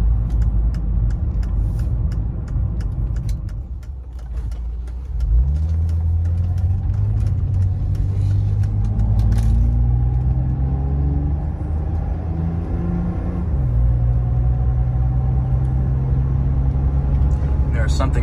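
A 1993 Mercedes-Benz 300E W124 sedan drives along with a steady, close engine rumble. The engine note climbs as the car gathers speed, then drops back after a shift and keeps pulling under a constant road drone.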